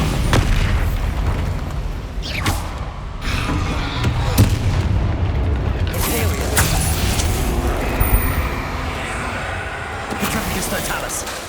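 Bombarda explosion spell blasting during a spell-casting fight in Hogwarts Legacy: dense, rumbling booms and crackling impacts over a busy battle mix, with voices shouting in the middle of the combat.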